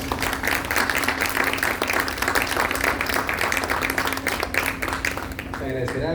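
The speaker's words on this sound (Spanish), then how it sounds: "Aplausos, por favor" Sustained audience applause fills a hall at a book presentation, steady dense clapping from a crowd that carries on for several seconds before thinning toward the end.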